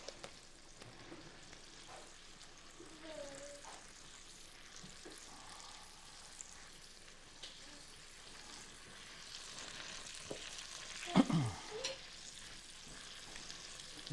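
Grated Parmesan is stirred into risotto in a pan off the heat, giving a soft, steady sizzling and scraping stir. Brief louder spoon scrapes come near the end, and no one speaks.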